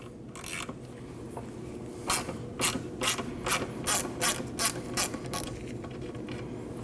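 A hand ratchet tightens a stud on the AC condenser of a Nissan NV2500 van. About a dozen quick, crisp clicks come in a close, even run after a quiet start.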